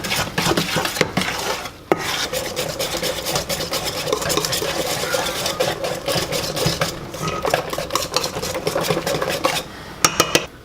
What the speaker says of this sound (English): And then mix until there are no clumps. By hand, that's important too.